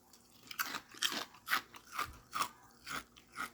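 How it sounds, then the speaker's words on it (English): Close, loud crunching of dry cinnamon protein cereal being chewed, a steady rhythm of about eight crisp bites with no talking. "hopefully you guys can hear that crunch."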